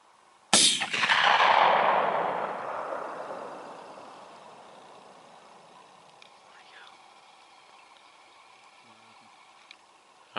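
A single loud rifle shot cracks out on a family farm during a deer hunt, its boom rolling and fading slowly across the open field, followed by quiet outdoor air with faint distant noises.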